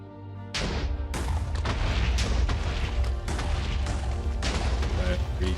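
A loud, sudden explosion while mining in the Minecraft video game, a heavy booming burst that sets off a long, dense rumble of crackling blasts filling the rest of the moment.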